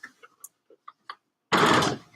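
A sewing machine runs a short, loud burst of stitching over elastic at a dress underarm, following a few faint clicks and taps.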